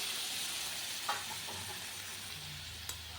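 Vegetable stems cooking in oil tempered with spices, a steady close sizzle and hiss with a couple of brief stirring clinks, no talking.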